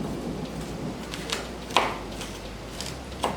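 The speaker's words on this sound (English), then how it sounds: "You guys hear that thunder?" A couple of soft distant thunder rumbles roll under steady rainfall outdoors, with faint kitchen clatter now and then.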